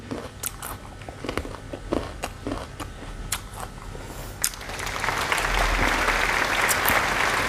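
Crunchy fresh dates bitten and chewed up close, with a series of crisp snapping bites at first giving way to steadier, noisier crunching and mouth sounds.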